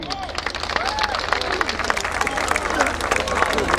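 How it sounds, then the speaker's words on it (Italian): An audience at a live comedy show in Brindisi gives a brief ripple of clapping for the first contestant, with some crowd murmur and voices mixed in. "applauso per il primo"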